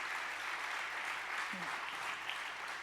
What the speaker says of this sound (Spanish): Vamos, a aplaudir la misericordia de Dios.